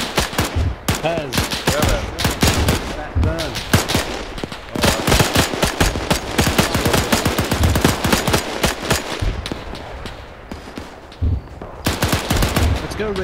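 Rapid bursts of close, loud gunfire fill a red versus blue team battle, with dense overlapping volleys and brief pauses, and people shout and talk between the shots.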